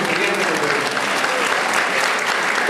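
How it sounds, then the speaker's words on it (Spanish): An audience at a law lecture on money-laundering offences giving a loud, sustained round of applause for the speaker, dense and continuous throughout. "quisiera un fuerte aplauso para el doctor César Nakazaki"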